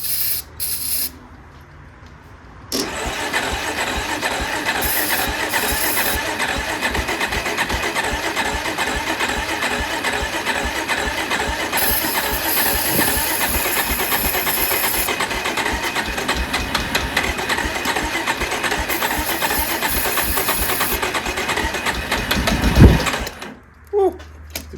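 A small ATV or snow blower engine fires up after a squirt of carb cleaner, first a quiet pause, then a loud, steady, rattling run that holds close and unbroken for about twenty seconds before cutting off abruptly.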